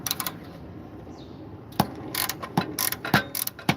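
Ratchet clicks from a pass-through socket set on a lawn mower job, sharp clustered bursts repeating irregularly at close range with no talk over them.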